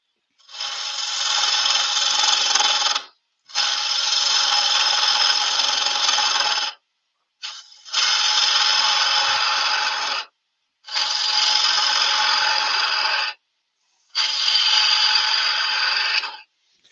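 A woodturning tool cutting away waste from yew on a lathe, five bursts of loud, bright hissing scraping, each a few seconds long, separated by short silences.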